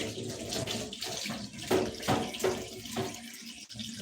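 A filter rinsed under a running kitchen tap while cooking Nigerian afang soup, a steady close splash of water into a sink with small surges as the filter is moved through the stream.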